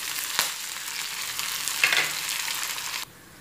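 Curry leaves dropped into hot oil with browned onions for a sambar tempering, giving a bright, close, steady sizzle with a couple of louder spits before cutting abruptly to a quieter hiss.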